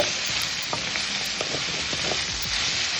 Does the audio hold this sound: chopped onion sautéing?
yes